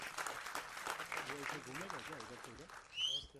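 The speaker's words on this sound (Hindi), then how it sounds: "तो तालियां, हाँ हाँ, तालियां तालियां तालियां" Applause from the audience at a song launch, a soft, distant patter of clapping running beneath a voice speaking over it.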